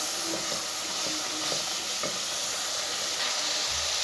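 Potato and eggplant curry with tomato frying in oil in a pan, a steady close sizzle and hiss with light stirring scrapes, no talking.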